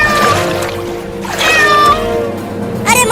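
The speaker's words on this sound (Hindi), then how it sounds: "एक बिल्ली पानी में डूब रही है" A cat meows repeatedly in flood water, several drawn-out, plaintive cries rising and falling over a steady wash of moving water.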